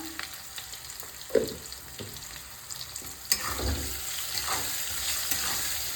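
Potatoes frying in a pan with salt, a steady close sizzle broken by scraping stirs and spatula knocks against the pan, no voices.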